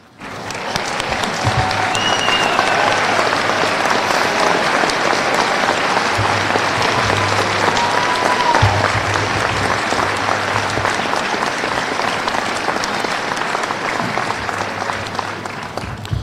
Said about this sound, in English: there's really not enough applause for you